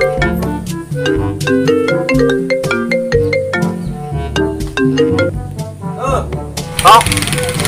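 A phone ringtone plays a bright, repeating electronic melody, loud and close, running steadily for several seconds before a short noisy burst near the end.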